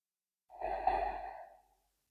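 A single deep breath, a long audible exhale like a sigh, taken during a hip-opening stretch routine; close, soft and alone, lasting about a second.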